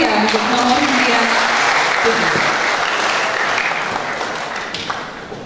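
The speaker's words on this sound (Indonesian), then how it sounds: "tangan yang meriah untuk nomor undian" Audience applause after a choir competition performance at a Tongkonan gathering, dense and sustained throughout, slowly tapering off near the end, with a faint voice underneath.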